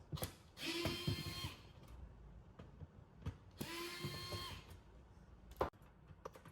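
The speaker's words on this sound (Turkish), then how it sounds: "Burada iki tane vida var. Bunları açıyoruz." Screws are undone on a PS4 Pro console during a cleaning, giving two close bursts of ratcheting, clicking screwdriver turns with a few separate sharp ticks between them, fairly faint and with no talk.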